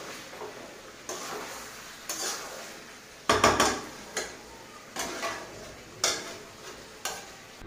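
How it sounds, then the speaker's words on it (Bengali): Chicken being stirred in a cooking pot, a home kitchen curry with red gravy: repeated scraping and clinking strokes of a spoon against the pot roughly once a second, with a stronger burst of scraping in the middle, close and moderately loud with no talk. "বুঝতেই পারছো একটু নাড়িয়ে চাড়িয়ে আসতে হচ্ছে চিকেনটা"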